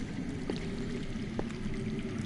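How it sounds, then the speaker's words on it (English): Underground water flows in a Game of Thrones video game, a steady, soft rushing with a couple of faint drips or taps over it. "That's water. I hear water. From underground."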